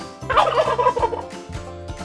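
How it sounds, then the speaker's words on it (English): A turkey gobbles in a rapid, warbling burst with quick repeated pulses, loud and close, followed by a few shorter clucking calls; no voices present. "That's right, it's a turkey."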